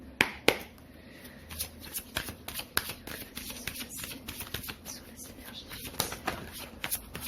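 Lenormand oracle cards shuffled by hand in steady, papery riffling bursts, close and crisp, with sharp slaps early on and quiet murmuring in the background.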